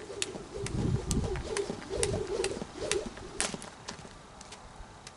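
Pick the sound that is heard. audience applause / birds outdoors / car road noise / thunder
birds outdoors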